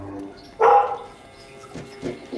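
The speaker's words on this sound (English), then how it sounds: "my dogs are going to be barking in the background" A dog barks once at moderate distance in a home, a short sharp bark followed by a few fainter yips or whimpers, with no talk.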